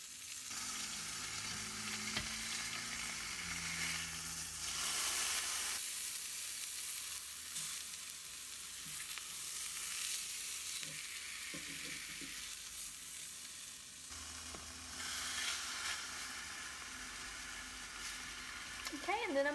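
Chicken sizzles and fries steadily in a pan for beer-braised chicken, a continuous close hiss with occasional stirring and turning sounds, while a person talks faintly in the background.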